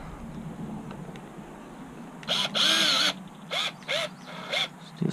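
Short bursts of a small power driver running a screw in while installing a Hot Racing sway bar on an Axial Yeti XL RC truck, several brief whirring pulses close up after a quiet lead-in.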